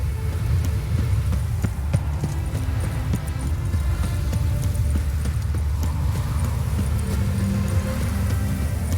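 A horse galloping in The Witcher 3, with steady, continuous rhythmic hoofbeats at a constant loudness over a low rumbling game soundscape.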